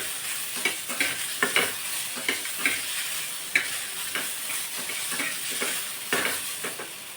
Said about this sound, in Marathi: आता यामध्ये आपण थोड्याशा लसूण पाकळ्या टाकणार आहोत त्यासुद्धा परतून घेऊ यामध्ये